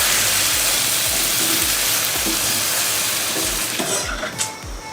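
Green chillies and mango chunks sizzle in a pan in a farmhouse kitchen, with steady broadband frying hiss and repeated low scraping thumps of a spoon stirring, close and loud, no talking.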